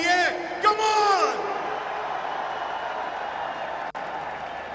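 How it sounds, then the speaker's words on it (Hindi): Stadium crowd at a cricket league match in Lahore applauding paratroopers, a broad wash of clapping and cheering heard under a loud announcer's voice, fading slightly as it continues. "Ek dafa zordar taaliyan hamari Pak Fauj ke liye"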